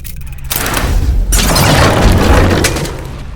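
Loud booming explosions in the pixel-art fantasy video game Verne: The Shape of Fantasy, a heavy rumbling blast after a short pause, sustained and dense with crackling debris before slowly fading.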